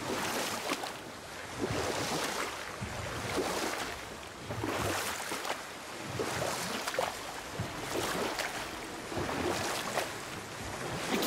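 Rhythmic splashes of oars rowing a boat through water in the video game God of War, repeating every couple of seconds over a soft bed of wind and lapping waves.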